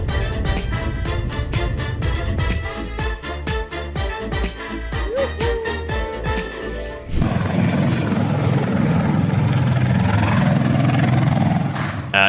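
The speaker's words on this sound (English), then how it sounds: "this helicopter's powerful takeoff rips a fence right off the ground" A helicopter takes off powerfully at a Fleet Week aviation event at Eisenhower Park, New York, its rotor thumping in a fast, loud pulse before the sound swells into a dense, roaring rotor wash and engine whine.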